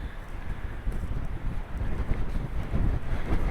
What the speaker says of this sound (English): Hope you can hear me, it's so windy.